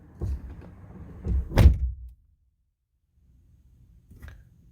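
Brief handling noises, then a 2017 Dodge Ram 1500 pickup truck door slams shut with a loud, close thud, followed by near silence and a faint rustle.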